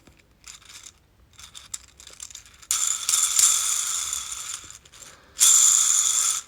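A Layer Labs Gear Spinner fidget toy gives off close, crisp ratcheting clicks, first in quiet light bursts, then in louder sustained whirring runs of rapid mechanical clicking.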